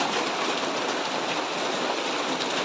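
Steady, dense hiss of rain falling continuously, a close and even wash of noise with no voices.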